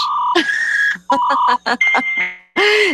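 A dial-up modem connection handshake: loud, close beeping tones, warbling screeches and hissing noise bursts in quick succession, with short gaps between them.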